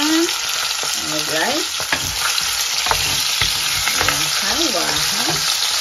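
Chicken adobo frying in reused old oil, a loud constant sizzle and crackle with spatula scrapes, while a voice speaks briefly over the cooking.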